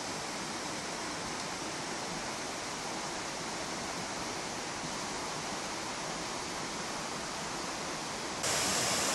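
A waterfall on the Galbena gorge trail roars in a dense, unbroken rush that stays constant and close for the whole stretch, with no voices over it.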